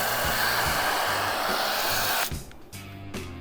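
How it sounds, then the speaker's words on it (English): A pressure washer foam cannon from an Omikron kit sprays cleaning foam in a loud, steady broadband hiss that runs for about two seconds, then cuts off abruptly, leaving quieter sputters and low thumps. "putting it on with a pressure washer gives a lot more power and aerates the product a lot more"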